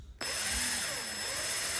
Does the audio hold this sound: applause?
no